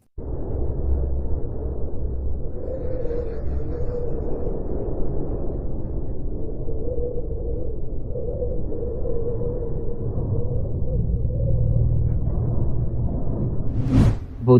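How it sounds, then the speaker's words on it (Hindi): A sonified space recording presented as the sound of Mars: a steady, rushing, wind-like whoosh with low rumble underneath, loud and continuous, ending in a short bright burst. "मंगल ग्रह की आवाज़।"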